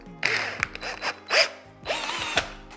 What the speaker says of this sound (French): tu vas venir l'enclencher tout simplement sur ta perceuse visseuse